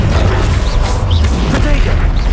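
A Confringo spell explosion in the Hogwarts Legacy video game sounds as a loud, heavy rumbling blast with crashing, creaking debris and whooshing effects, filling the whole moment close and dense.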